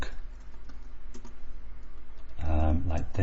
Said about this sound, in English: I'm pressing the wrong key on my keyboard.